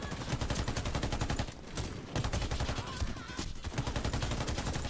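Rapid AK-47 gunfire from the Warface game on Nintendo Switch, sustained automatic bursts loud and close with brief gaps between volleys.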